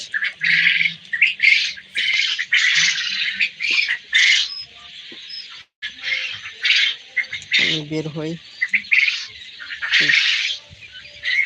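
Quails on a poultry farm in Charfasson, Bhola, Bangladesh, give repeated squawks and chirps in overlapping bursts, with someone talking over the flock throughout.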